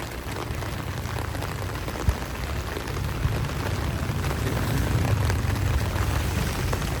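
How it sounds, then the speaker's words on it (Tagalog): Steady, dense rain from a super typhoon pours continuously with a low rumbling wash underneath, constant and fairly loud throughout, no voices. "tuloy-tuloy pa rin yung buhos ng malakas na ulan"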